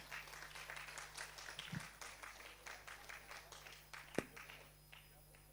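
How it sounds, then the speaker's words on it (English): Scattered applause from a seminar audience welcoming a metro railway official, faint uneven clapping with a few sharp knocks and some background voices mixed in. "Can we have a big round of applause?"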